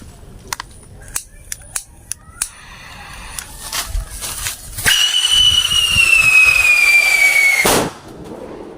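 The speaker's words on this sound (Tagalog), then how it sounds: "Simulan natin sa whistle bumper." Whistle bomb firework test-fired outdoors: a few sharp crackling pops, then a loud rising-and-falling shriek lasting about three seconds that cuts off abruptly, with faint talk in the background.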